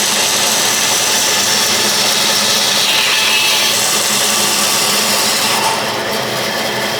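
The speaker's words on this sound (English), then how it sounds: "here we are at the trusty bandsaw, where we're going to cut some slits in these" Bandsaw cutting slits into wooden stilts, giving a loud, continuous whirring hiss that holds steady for several seconds and eases slightly near the end.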